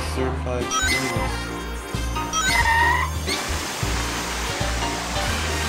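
Steady rushing water from the shower room in Sonic Adventure DX hisses continuously beneath upbeat game music, with short chime effects and excited talk over it.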